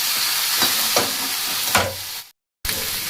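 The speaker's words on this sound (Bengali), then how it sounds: "এখন আমি ভালো করে কষিয়ে দেব" A Kashmiri potato curry mixture with tomato is stir-fried in a pan, a steady close sizzle broken by a few scraping stirs before a brief cut to silence and the frying resumes.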